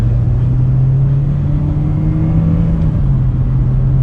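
A turbocharged Mitsubishi Lancer Evo X engine pulls in third gear, a loud steady droning rumble with a gradually rising tone, heard from inside the car without any talking.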